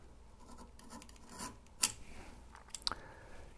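A sharp knife slices through harp pedal felt with a faint, dry rasping and rubbing, one or two brief scraping strokes in a quiet room.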